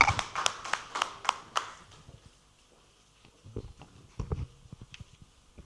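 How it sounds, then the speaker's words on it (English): Conference audience at a research workshop giving a short round of applause, several loud rhythmic claps up front that fade quickly, followed by scattered quieter taps and shuffling in the hall. "Please clap for her."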